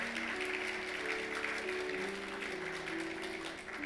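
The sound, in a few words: applause welcoming a family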